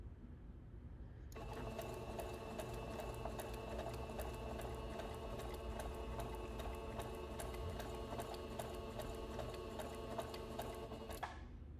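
Sewing machine stitching a straight seam, a steady fast mechanical whir and rapid ticking that starts abruptly and runs evenly for about ten seconds before stopping, close and alone.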